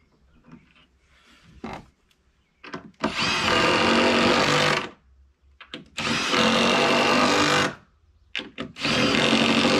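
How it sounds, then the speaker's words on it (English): Screw gun driving screws during a pole barn build, three loud bursts of whirring drive, each lasting a second or two, separated by quiet pauses with small handling clicks and knocks. "Grab my old screw gun."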